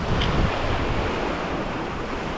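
Waves breaking on the Lake Erie shore, coming in around four feet high on a morning near high tide, make a steady, loud wash of surf with wind buffeting the microphone throughout, no voices.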